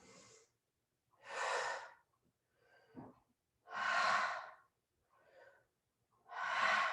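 Slow, deep breaths during a chair pilates exercise, three loud airy exhalations alternating with softer inhales in an even rhythm, close and clear with no talk.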